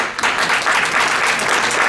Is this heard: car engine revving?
no